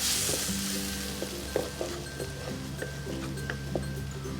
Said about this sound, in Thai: ใส่น้ำมันนิดเดียวพอนะคะ แล้วก็ใส่น้ำพริกกะปิของเราลงไป ผัดจนได้กลิ่นหอมนะคะ